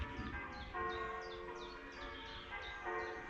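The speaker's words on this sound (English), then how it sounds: "there's the church bells" Church bells ring at some distance across an outdoor pond during a fishing session, a few spaced, repeating tolls sitting over steady low background noise.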